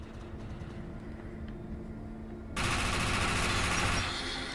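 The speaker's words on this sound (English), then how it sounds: "Yeah, and I got me this new SMG." Sustained SMG gunfire in the video game Defiance 2050, a dense continuous burst that begins suddenly partway through and carries on to the end over a low background hum, with no talking.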